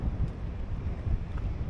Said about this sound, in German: Es ist vielleicht ein bisschen windig